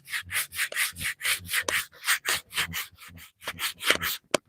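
Wood is hand sanded with 80 grit sandpaper in quick, rhythmic back-and-forth strokes, a close, coarse rubbing rasp repeating about four to five times a second with no talking.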